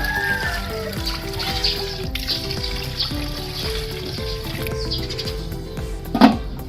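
Water is poured into a cooking pot for beef pochero, a steady close trickle and splash running the whole length, with a louder clank near the end.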